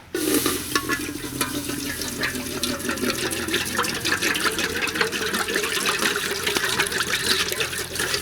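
Water pours steadily into an idli steamer pot, a continuous loud rushing and splashing that lasts throughout with no voices over it.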